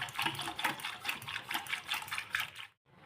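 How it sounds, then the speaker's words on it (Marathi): Water is poured into a yogurt batter for Maharashtrian dahi kadhi, making a close, pulsing splash and trickle for under three seconds before it cuts off abruptly. "आपण थोडं पाणी घालूया त्याच्यात आणि परत एकसारखं करून घेऊया"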